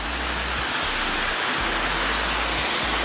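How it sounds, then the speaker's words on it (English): A waterfall roars in a constant, dense wash of rushing water, loud and close, filling the whole stretch evenly with no voices over it. "You guys are wondering what the noise is, this beautiful waterfall here."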